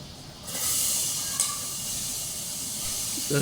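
A steady sizzling hiss of chopped onions frying in butter in a hot pan, continuous and close, with a brief rise in intensity partway through.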